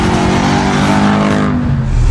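A Mercedes B-Class W245 fitted with a 5.5-litre V8 AMG engine making 388 horsepower accelerates hard, a loud, steady engine roar with rising harmonic tones throughout, close to the listener.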